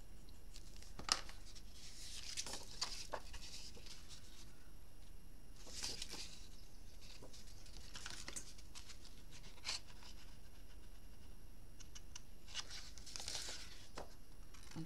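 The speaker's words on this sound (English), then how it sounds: "I'm taking a chance, cutting it with my scissors." Quiet, scattered snips and crisp scraping bursts of scissors cutting through material, spaced a couple of seconds apart over soft background hiss.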